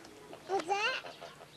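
A person imitates a duck's call with their voice, giving a short nasal squawk of a couple of rising and falling notes in a quiet indoor setting.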